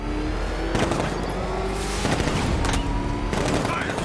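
Sustained gunfire in the Batman Arkham Knight game, dense bursts of rapid shots rolling continuously and loud, with brief pauses between volleys.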